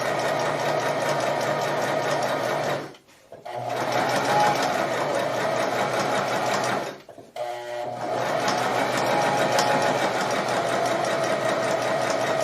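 Sewing machine running steadily while stitching a quilt test block, loud and close, pausing twice briefly around the third and seventh seconds before resuming its rapid mechanical whir.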